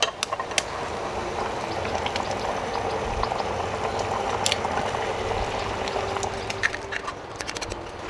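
Egg drop curry made with country chicken eggs bubbles in a pot, a steady close simmering hiss dotted with soft pops and bursting bubbles, with no talk over it.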